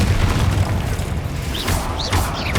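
Confringo fire spell blasting in the Hogwarts Legacy video game, a loud booming explosion with crackling bursts and a few rising whooshes over a steady rumble.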